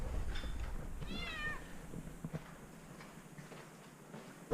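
A pet cat named Speedy, back home at an RV camp, gives a short rising meow near the start, fairly close, over a low background rumble.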